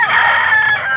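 Chickens cluck around a crowing rooster at a rural spot in Angeles, Pampanga, the loud crow holding steady and close for the whole brief moment.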